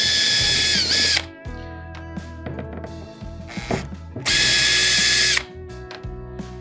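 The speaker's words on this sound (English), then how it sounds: "So just back these screws out." A power drill whines in two loud bursts, backing screws out of a steering drum cover on a Hobie Pro Angler kayak, with clicks and rattles of handling between runs.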